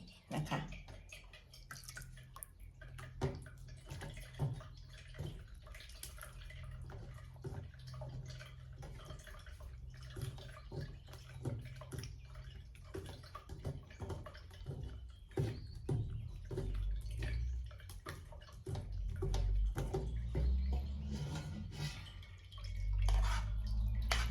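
Boiled sugar syrup poured in and trickling down, a soft, continuous watery flow and drip with small clinks, steady at close range for about twenty-four seconds, thickening toward the end.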